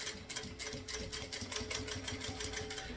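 A sewing machine stitches synthetic leather for a crossbody bag, running with a fast, steady mechanical chatter and an even needle rhythm that does not let up.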